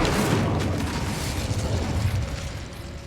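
A burst of the Incendio fire spell from Hogwarts Legacy, a roaring, whooshing blast that holds steady for about three seconds and fades slightly at the end, heard alone with no talking.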